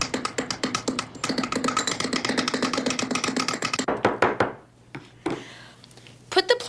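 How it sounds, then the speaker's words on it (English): Leaves are mashed with a knife on a hard surface in rapid, dense tapping and chopping strokes, loud and close, then a few slower knocks and a pause before a final burst. "Get a hold of some leaves. And mush them up using a knife."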